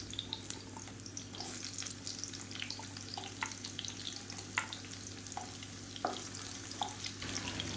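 Garlic cloves and large onions sizzle steadily in hot oil in a pan while a spicy chutney is made. The constant frying hiss is broken by occasional clinks and stirring taps, with no talking.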